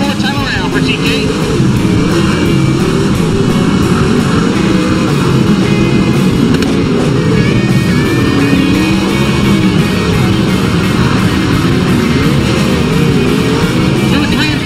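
Race cars roar around an oval track on the last lap of a short-track feature, a dense, steady wall of engine noise from start to finish with a commentator talking over it.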